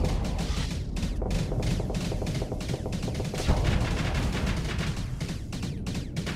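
Automatic ship weapons firing in the Starsector space game, a continuous loud stream of rapid shots and impacts that carries on without a break and with no talking over it.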